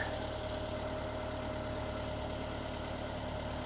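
An engine on a cold start runs steadily as it is put in gear and throttled up, a continuous mid-to-low hum with a faint knock, heard alone without talking.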